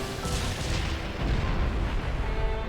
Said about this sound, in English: Fire those launchers. At least I assume those are launchers.